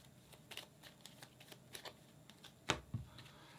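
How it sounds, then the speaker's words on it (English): Board game age cards being shuffled in separate decks, a faint riffling and tapping of card stock with a brief sharper snap near the end, close by and quiet. "Sort the age cards into 3 decks according to their backs, and shuffle each deck separately."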